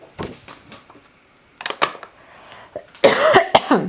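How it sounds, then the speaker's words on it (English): A person hoarse from recent illness coughs in a few sharp separate bursts, the last one louder and longer, alone in a quiet room. "Sorry about the coughing, y'all."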